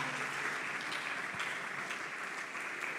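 At a tech summit, an audience keeps up steady, moderately quiet applause for a welcomed guest, an even wash of clapping with no voices above it.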